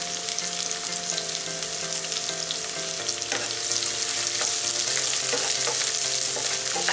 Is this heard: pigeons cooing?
no